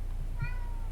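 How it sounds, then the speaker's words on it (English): A single short cat meow sounds close by against a steady background hum. "I hear that cat again."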